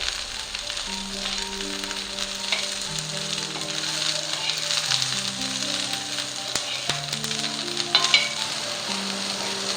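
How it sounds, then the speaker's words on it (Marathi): Onion frying in oil until golden brown for a chicken masala, a continuous crackling sizzle with occasional stirring scrapes, close and steady, no voices. "कांदा सुद्धा गोल्डन ब्राऊन होईपर्यंत मी भाजणार आहे"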